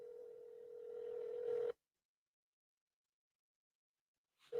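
A telephone tone sounds for under two seconds before a long silence, then the tone starts again at the very end, with no voices.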